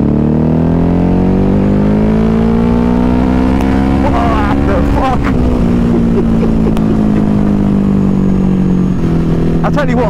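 Ducati HyperMotard 950 SP motorcycle with the exhaust baffles out, cruising in fourth gear around 3,500–4,000 rpm: a steady, loud twin-cylinder exhaust note that rises slightly and then eases, with a brief exclamation from the rider over it.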